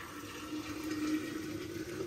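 Water poured steadily into a container during Holi preparations at home, a continuous close splashing gurgle lasting a couple of seconds with no talking.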